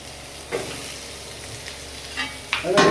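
Onions fry in a pan with a low, steady sizzle, broken by a few stirring scrapes and a louder clatter of utensils toward the end.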